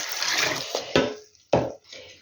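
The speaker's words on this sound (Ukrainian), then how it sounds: "пів літр водички налила" Half a litre of water is poured from a container into a cooking pot in two or three splashing bursts with short gaps between them, close and fairly loud.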